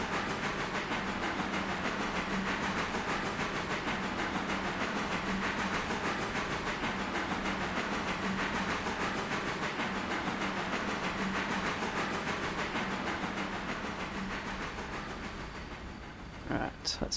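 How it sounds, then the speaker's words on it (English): Heavy 640-tonne goods train rolling in the RailRoader video game, a loud steady rumble with rail clatter and hiss that holds for most of the stretch, then eases off near the end with a few brief knocks. "Another heavy train, 640 tonnes, but I'm sure this local will manage."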